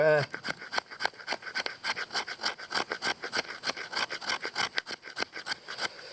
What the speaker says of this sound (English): So 90-degree spine, back of your knife, get some shavings.